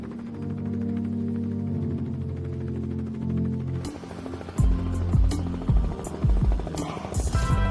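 A steady, throbbing helicopter drone hums for several seconds, then heavier thumps and sharper bursts break in over it.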